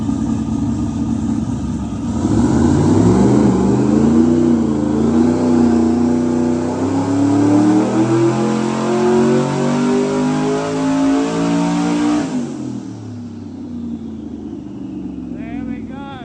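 Twin-turbo LS V8 pulling on a dyno, a loud engine roar rising steadily in pitch through a long run before abruptly cutting to a lower idle, with a brief hiss at the end.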